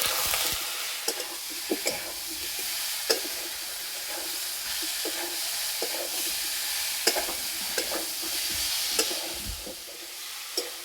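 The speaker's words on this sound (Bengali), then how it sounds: "মশলা কষানো হয়ে গেছে" Ground cumin, turmeric and chili powder with a little water sizzle and fry in a pan, a steady hiss broken by the occasional scrape and clink of a stirring spoon, with no talk.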